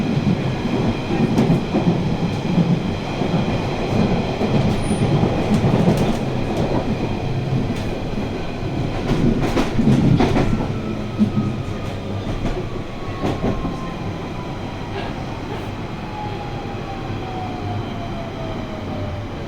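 A London Underground Central line train rumbles along steadily inside the carriage, a dense roar of wheels and motor with faint clatter and a slowly falling whine, no voices.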